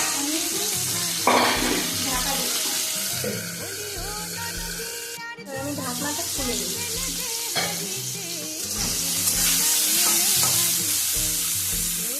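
Salted potatoes and papaya fry in a pan for a thin fish curry, a continuous close sizzle broken by stirring scrapes and utensil knocks, with a brief lull partway through.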